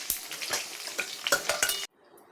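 Hilsa fish heads coated in salt and turmeric fry in hot oil, making a crackling sizzle with sharp spatters and utensil clinks. The sound stops abruptly, and a faint low hiss remains.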